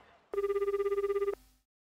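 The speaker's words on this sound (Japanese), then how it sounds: "電話してみます" A telephone ringback tone for an outgoing call to a café, one single ring burst of about a second with a fast warbling pulse, clear and close, followed by silence.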